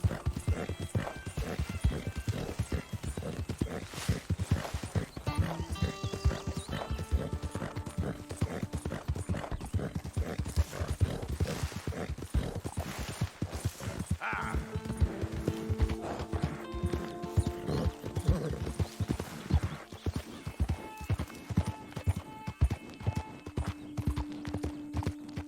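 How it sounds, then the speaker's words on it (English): Horse hooves clip-clopping steadily across the whole stretch in Red Dead Redemption 2, with a neigh or whinny breaking in, set against game music and ambient sound. "get that horse out of here"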